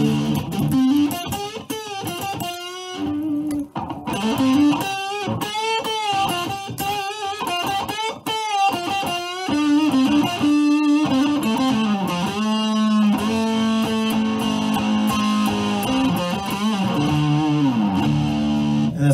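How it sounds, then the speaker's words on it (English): Electric guitar played through a DS2 turbo distortion pedal with an FS5U footswitch, a loud sustained driven tone with bending melodic lead lines and chords running continuously and alone. "this turbo distortion is a DS2, so it actually has got two settings for distortion"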